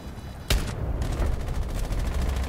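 Pistol shots fired in a video game: a sharp loud report near the half-second mark, followed by a dense, continuous wash of gunfire and combat noise throughout, with no talk.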